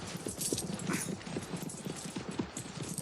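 Horse hooves clop steadily on a path as a group of riders forms up in an audio drama, a dense, continuous patter of many hoofbeats at moderate volume.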